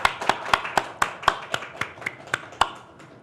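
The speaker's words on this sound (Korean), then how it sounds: "우리 한번 뜨겁게 환영의 박수를 하시겠습니다." Sparse, evenly spaced hand claps from a church congregation giving a welcome during Sunday worship, about a dozen sharp, fairly close claps at a steady rhythm that thin out toward the end.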